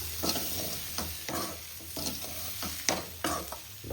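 A spatula repeatedly scrapes and stirs mussel thoran (kallummakkaya) frying with onions in a pan, giving about eight sharp, close scraping strokes over a constant soft sizzle.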